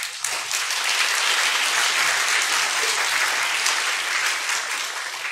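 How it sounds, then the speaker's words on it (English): Audience at a Taipei salon talk event gives a big round of applause for volunteers and staff; dense, sustained clapping fills the room evenly for several seconds, tapering slightly at the end. "Let's give our volunteers and the staff a big round of applause."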